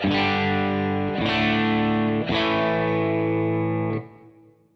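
Distorted electric guitar through a Bad Cat Cub valve amp with a 12AX7 preamp valve: three sustained, crunchy chords struck about a second apart, ringing loud and thick before cutting off.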